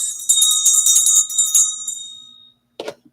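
A bright bell rings in quick repeated strokes for about two seconds, then fades, followed by a short rustle.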